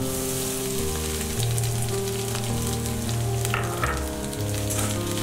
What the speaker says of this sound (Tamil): இதெல்லாம் நல்லா ரோஸ்ட் பண்ணதுக்கு அப்புறமா நம்ம துருவி வச்ச தேங்காயை வந்து ஒரு கப் போட்டுக்கறேன்